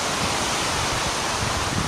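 Sea waves crashing onto the shore during a small storm at Koblevo on the Black Sea: a dense, continuous roar of surf with no pauses, loud and close.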